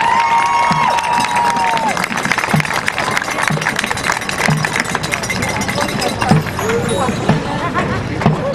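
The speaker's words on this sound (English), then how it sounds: "How about another round of applause for that fine performance tonight?" Audience applause and cheering after a high school marching band performance at a Pittsburgh stadium, a dense sustained roar of clapping and shouts with a whistle early on, steady and loud throughout.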